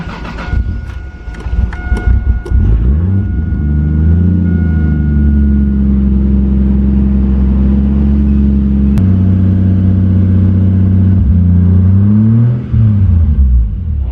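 A Toyota Supra Turbo engine cranks and catches, then settles into a steady loud idle with a couple of revs rising and falling, heard close up.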